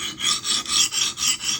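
A Spyderco Magnamax knife blade is drawn across a coarse sharpening stone in about five rhythmic rasping strokes, close and steady with no talk.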